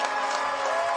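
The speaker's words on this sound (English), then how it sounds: "Santa Margarita crowd loves it." Santa Margarita football crowd cheering in the stands at a high school game against Mission Viejo, a brief, loud wash of roaring voices.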